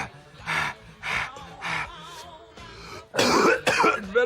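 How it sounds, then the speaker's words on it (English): Several harsh coughs and throat-clearing bursts come in a spaced series, then a louder, rougher cluster of hacking coughs near the end, close and unaccompanied by talk. "It's better to cough."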